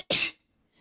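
A single sharp human sneeze, close and loud, a short burst followed by silence.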